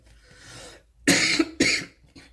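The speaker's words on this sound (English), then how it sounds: "I don't mean to cough" Two loud, harsh coughs in close succession, close to the mic, followed by a faint third one, with quiet background murmur before.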